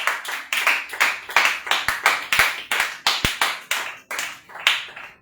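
A church congregation claps in rhythmic unison, a steady run of sharp, loud hand claps at an even tempo, close and clear without speech.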